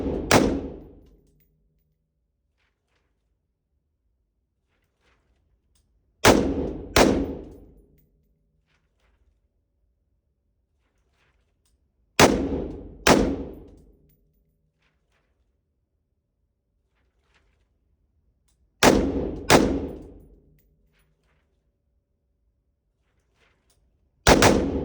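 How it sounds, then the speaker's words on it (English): Gunfire on an active duty shooting course at 5 yards, fired as loud sharp reports in pairs, each double shot followed by a ringing decay and several seconds of silence, repeating four times with another shot at the end. "At 5 yards, shoot 6 rounds in sets of 2."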